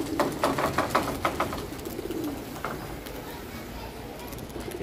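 A large flock of Giribaz pigeons, around seventy or eighty birds, coos in a steady low murmur with bursts of wing flapping near the start, while a voice talks over them at times.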